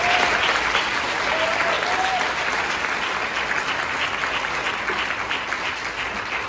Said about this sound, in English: Let's have a round of applause for all of our inductees.